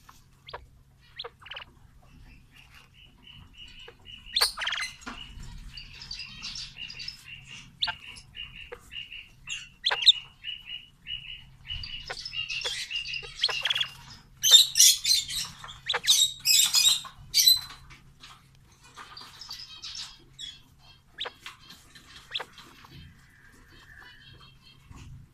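A pet quail takes a sand bath, close by and fairly faint: scattered scratchy rustles and flicks of sand come in irregular bursts, mixed with small chirps and squeaks, and a low hum runs underneath.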